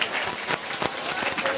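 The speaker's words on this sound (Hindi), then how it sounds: "जोरदार ताली से इनका स्वागत करियो।" A crowd at a Jhulan festival gathering claps loudly and continuously in welcome of a committee chairman, a dense burst of applause filling the whole short stretch.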